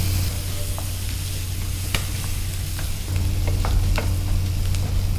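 Onion frying and being stirred in a pan for a brinjal curry: a continuous close sizzle with scattered sharp ticks and scrapes from the stirring, with no talking.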